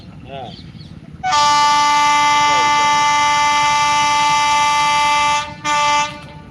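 A loud Vande Bharat train horn blares in a long sustained tone over rumbling rail noise as it passes near Usilampatti, cutting off briefly and then sounding again.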